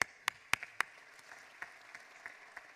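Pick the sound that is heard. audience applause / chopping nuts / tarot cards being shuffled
audience applause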